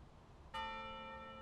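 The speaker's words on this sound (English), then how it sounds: "Oh, the bell rang again." A bell tolls once in the video game Maquette, striking suddenly and then holding a long ringing hum that fades slowly, with no voices over it.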